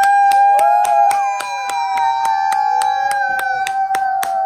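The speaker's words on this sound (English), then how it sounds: "Clap your hands" Hands clap in a quick, steady rhythm, roughly sixteen sharp claps in a row, loud and close, over a sustained tonal melody that continues throughout.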